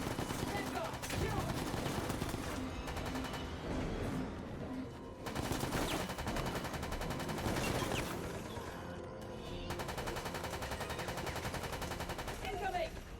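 Dense gunfire in the video game Operation Raccoon City, rapid machine-gun bursts in long stretches with brief pauses, loud and continuous, with voices shouting over the shooting.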